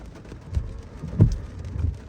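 Heavy rain falls steadily during a truck-loading job in Japan, a dense continuous hiss with a dull thump in the middle, heard without speech.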